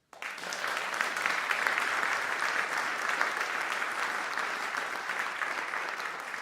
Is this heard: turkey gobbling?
no